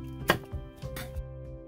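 A knife chops cabbage on a cutting board for spicy pork belly with green onion: a few sharp, close cuts spaced unevenly over a brief moment.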